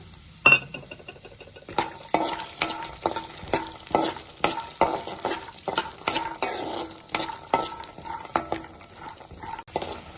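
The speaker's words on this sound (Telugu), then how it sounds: "ఆయిల్ వేడయింది. 1 కప్పు పల్లీలు," A cup of peanuts fries in a teaspoon of hot oil in a kadai on a lit stove, with steady sizzling and a constant run of scraping, clattering stir strokes close by, no voices.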